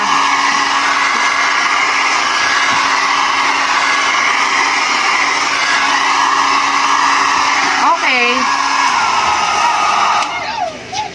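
A budget hair dryer blows steadily on hair with a loud, continuous whoosh and hum lasting throughout, dropping off near the end; a few brief voiced sounds pass over it.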